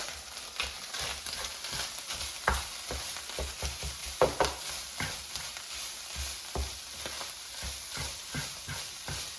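Ground turkey with garlic and oregano gets stirred in a pan, a run of irregular scraping and clacking strokes over a quiet sizzle, close by, with no talking.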